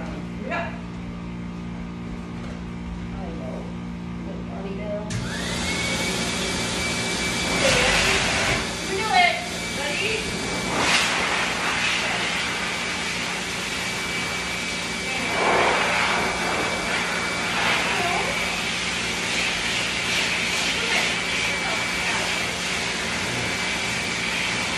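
A blow dryer runs on a wet Great Dane: a steady, loud whooshing roar with a thin whine starts after a few seconds and continues throughout, while a voice talks over it.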